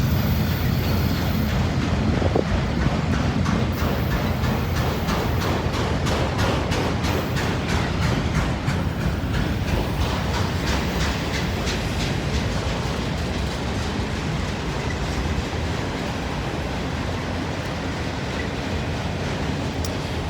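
A freight train hauling new cars rolls steadily past close by in Northern Kentucky, a continuous heavy rumble with rhythmic clacking of wheels over rail joints throughout.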